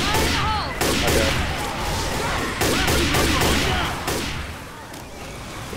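Dense gunfire in Left 4 Dead 2 as players shoot zombies, rapid overlapping shots and bursts filling the whole stretch at a steady loud level, with game effects mixed in and no clear talk.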